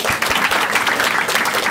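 Audience applause in a live Marathi stand-up comedy show, dense steady clapping from a crowd throughout, fairly loud and close.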